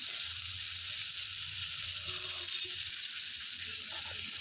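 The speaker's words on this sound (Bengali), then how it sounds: "এই তড়কা প্যানের মধ্যে দিয়ে এই সমস্ত কিছু দিয়ে মোটামুটি 1 মিনিটের মতো নাড়াচাড়া করে ভেজে নেব" Cauliflower, spices and a handful of green peas frying in a pan sizzle steadily and loudly throughout, with faint scraping from stirring and no talk.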